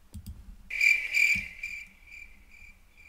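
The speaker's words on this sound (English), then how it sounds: "get some crickets in the background." Crickets chirp steadily in the background, a bright pulsing trill that swells loud at first then settles into softer regular chirps, with a couple of low thumps near the start.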